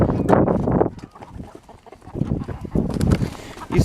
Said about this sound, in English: I'm gonna go let the geese out right now so they can come out and get some food